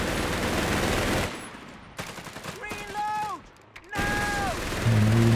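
Rapid bursts of machine-gun fire from a gunner unit in the WWII strategy game Company of Heroes 3, loud crackling volleys broken by a short gap, with voiced unit callouts over the shooting.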